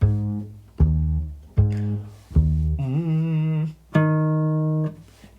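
A voice imitates an oompa bass line, alternating low and higher sung notes in a bouncy, regular rhythm, close and unaccompanied.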